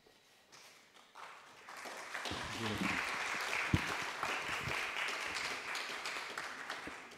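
Audience applause in a conference hall, the Aula Minor at a pontifical university, rising after a quiet start into a steady wash of clapping with a few sharper claps and some faint voices underneath.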